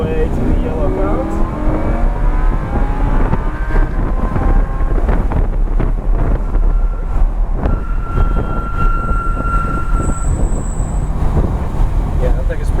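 A Lamborghini Huracan accelerates around the track at Englishtown Raceway, its engine rising in pitch under heavy wind buffeting, with other cars nearby and a voice talking over it.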